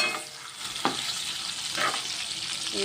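Eggplant pieces frying in a hot pan for an eggplant curry give a steady, close sizzle with a few brief stirring scrapes.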